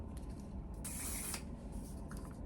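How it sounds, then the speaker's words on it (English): A single burst of makeup setting spray hisses for about half a second against a quiet room background. "this is a one size setting spray"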